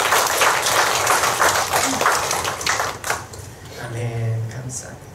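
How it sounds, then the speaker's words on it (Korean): Church congregation clapping in thanks to God during a Sunday worship service, a loud round of applause that fades after a few seconds, followed by a brief sustained tone. "하나님 앞에 감사의 박수를 먼저 드렸으면 좋겠습니다"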